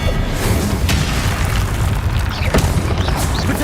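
Confringo fire spell explosions in the Hogwarts Legacy video game, a loud continuous rumble of booms with sharp bursts cutting through, dense and close throughout.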